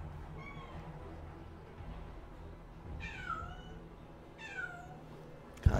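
Cat meowing in a bedroom: two or three short, fairly faint meows spaced a couple of seconds apart over quiet room noise, ending with a brief bump.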